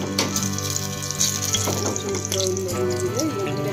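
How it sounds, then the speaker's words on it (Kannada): Crushed garlic cloves, their skins partly left on, frying in a pan with a steady sizzle under a low background hum that holds throughout. "ಒಂದು 4-5 ಬೆಳ್ಳುಳ್ಳಿ ಇರುಕು ಹಾಕಂತ ಇದ್ದೀನಿ, ಚೆಚ್ಚಿದ್ದೀನಿ"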